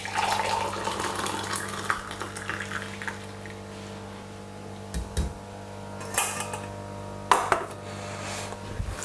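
Cumin seed tea strained from a pot in a home kitchen: soft liquid pouring and trickling with light clinks of metal utensils and dishes, quiet and close, a few sharper knocks near the end.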